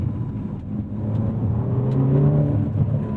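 A 2017 Ferrari California T engine pulls steadily under load in manual shifting mode, a continuous mid-pitched drone that swells in loudness and pitch toward the middle, heard from inside the cabin without any talking.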